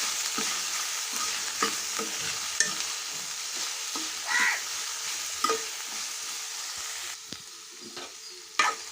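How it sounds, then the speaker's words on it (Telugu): Ginger paste frying in a pan for a cauliflower curry, a steady close sizzle with occasional spoon scrapes and stirring clicks throughout, no voices. "ఇదిగోండి చక్కగా అల్లం పేస్ట్ కూడా ఫ్రై అయిందండి"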